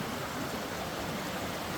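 Steady broadband rush of a stream flowing along both sides of a hiking trail bridge and steps in a Pacific Northwest forest near Lower Diamond Falls, continuous and even, fairly close, with no voices.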